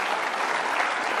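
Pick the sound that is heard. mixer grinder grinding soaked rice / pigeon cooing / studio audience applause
studio audience applause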